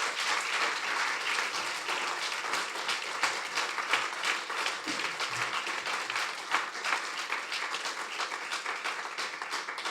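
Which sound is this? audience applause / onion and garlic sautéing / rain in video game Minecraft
audience applause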